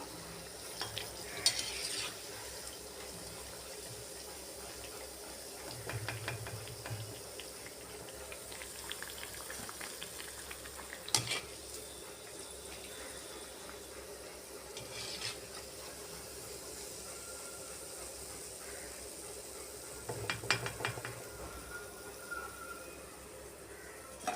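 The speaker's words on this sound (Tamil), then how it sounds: "அடுப்பை சிம்மில் வச்சு தான் பொரிக்கணும் இல்லைன்னா டக்குன்னு செவந்து போயிடும்" Quiet, continuous frying of jackfruit seed vada in oil on low heat, with soft bubbling and occasional stirring clinks, no voices.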